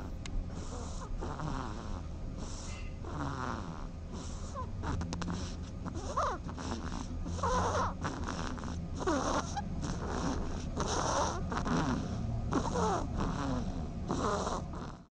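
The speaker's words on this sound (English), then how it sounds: "This is what a snoring dormouse sounds like." Soft, rhythmic snoring from a small animal, repeating breaths with faint squeaky wheezes, close and steady with no talk.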